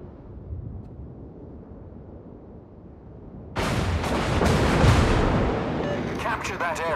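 Naval artillery fire in a war video game battle near Edinburgh erupts as a sudden heavy rumbling barrage after a quieter stretch, booming and sustained, with a voice speaking over the end.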